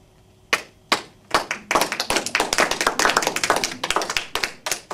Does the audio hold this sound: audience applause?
yes